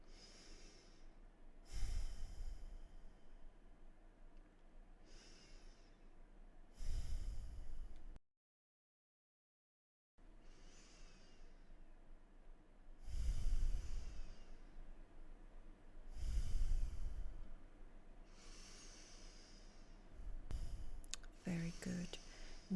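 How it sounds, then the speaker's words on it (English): During a beginner yoga flow for lower back pain, slow deep breaths come in long audible inhales and exhales, soft and close, separated by a brief silent pause. "we're breathing deep here"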